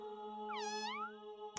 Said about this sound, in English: We heard a little cat.